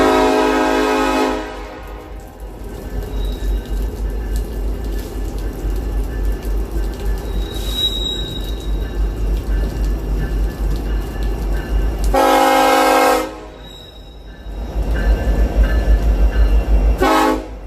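A train passes through Brunswick at night during a thunderstorm, its loud rumble rolling steadily throughout, with a long horn blast at the start and another around the middle, and a third sounding as it closes.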